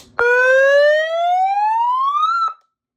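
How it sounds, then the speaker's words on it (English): A single bullhorn siren wail sweeps steadily upward in pitch for about two seconds, loud and close, then stops abruptly. "that siren's gonna go off multiple times"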